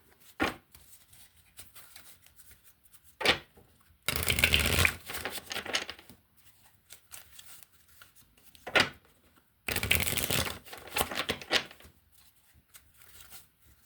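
A deck of cards being shuffled in two loud bursts of riffling, each about two seconds long, with softer taps and snaps of the cards in between. No one speaks.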